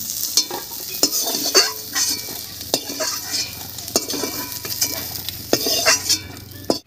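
Fried soybean chunks being stirred in a pan, a steady sizzle punctuated by repeated metallic scrapes and clinks of a spoon against the wok, in an irregular rhythm.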